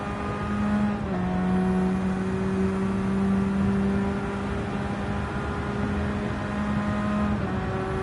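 A racing car driven on the Road Atlanta circuit holds a steady engine drone with tonal whine that shifts pitch around gear changes, loud and close throughout with no talk.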